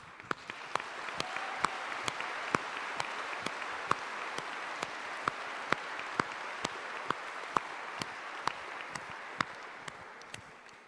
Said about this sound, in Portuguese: Eu mesmo aplaudi.